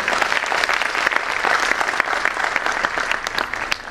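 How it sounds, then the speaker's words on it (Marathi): Audience at a school annual function for Era Kids School applauding loudly, a dense, steady burst of clapping from a large crowd throughout. "या उपस्थितांसाठी एक जोरात टाळ्यांचा गजर झाला पाहिजे"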